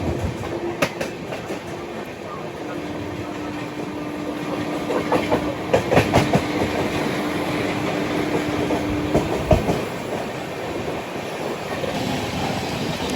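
A train rolls past a station platform on the Secunderabad to Howrah route, a steady rumble with clickety-clack wheel beats and a faint squeal, heard from close by without talk.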